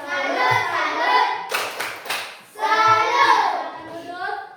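A primary school class does the 'tepuk salut' clapping routine, a short burst of quick rhythmic claps set between stretches of children chanting in unison.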